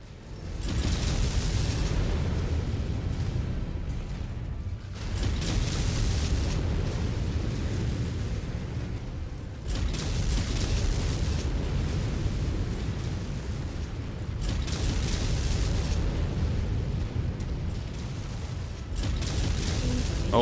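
Repeated heavy explosions and sustained roaring missile and weapon impacts from enemy mech fire in MechWarrior 5, in long, loud bursts about every five seconds with brief dips between them. No clear speech over the blasts.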